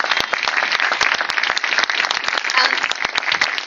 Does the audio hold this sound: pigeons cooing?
no